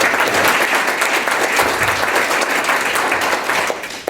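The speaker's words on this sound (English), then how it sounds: "So how about another round of applause for them?" A town hall audience in Brookings, Oregon gives a loud, sustained round of applause, dense clapping filling the room steadily and tapering slightly at the end.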